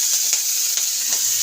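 Onion stalks sizzle in hot oil in a pan, a loud, close, steady crackling fry with a few soft stirring scrapes and no talking.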